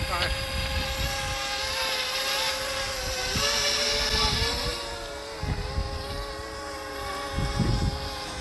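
A DJI Mavic Mini drone flies in strong wind. Its high steady propeller whine wavers in pitch, loud and close, over heavy wind buffeting, with a voice talking at times.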